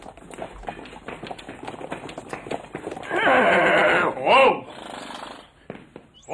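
A horse whinnies loudly in a comic Greek television sketch, a sustained neigh over rhythmic hoof clip-clops, with people talking around it.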